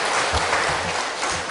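A church congregation applauds during a Sunday morning worship service, a loud, dense, continuous clapping from many people throughout the short stretch.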